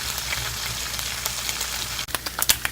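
Turkey bacon sizzles in a pan on a stovetop with a steady, close hiss, then a cluster of sharper crackles and pops near the end.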